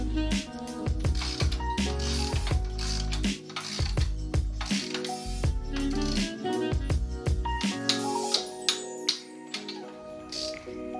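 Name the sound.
torque wrench tightening crash cage bolts on motorcycle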